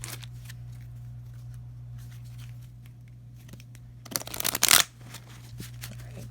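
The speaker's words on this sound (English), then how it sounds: "Sorry, I like to shuffle a lot." Tarot cards being shuffled, a quiet soft riffle under a low steady hum that builds into a loud, quick burst of card flutter near the end before falling back.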